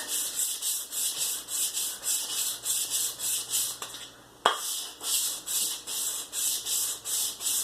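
An axe bevel is rubbed back and forth on an abrasive stone in a steady rhythm of gritty, scraping strokes, about two per second, close and clear, with a short pause near the middle before the strokes resume.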